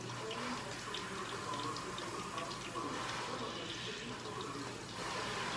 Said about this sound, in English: Of course, you want to wash them, just rinse them off.